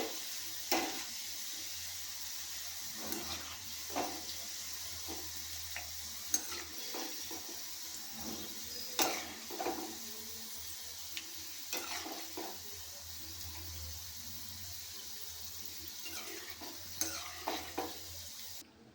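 Okra fries in a small kadai, a soft continuous sizzle broken by a spoon scraping and stirring the pan every few seconds, close up and fairly quiet, with no voices.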